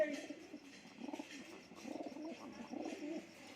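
Pigeons from a Punjabi racing loft coo in repeated soft, low phrases, fairly close, with a faint voice murmuring in the background.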